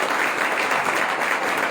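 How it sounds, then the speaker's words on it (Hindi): Loud, dense applause from a church congregation fills the whole moment, a steady wash of many hands clapping at close range with no voices on top. "एक बार ताली बजाएं जोरदार यीशु।"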